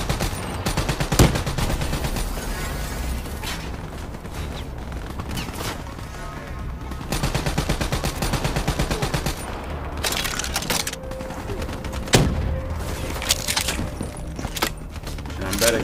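Dense bursts of gunfire in Call of Duty: Black Ops 3 on Xbox One, with rapid automatic fire, heavy impacts and explosions over steady game music and a faint tone, loud and continuous throughout.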